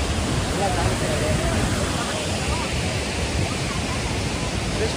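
Surmane waterfall at Kalasa rushes in a steady, dense roar of falling water, loud and close with no break.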